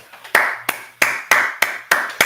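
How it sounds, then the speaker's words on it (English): Sparse, sharp handclaps for a comedian at an interview, about seven distinct claps in an uneven rhythm, close and loud with short gaps between. "Enough applause."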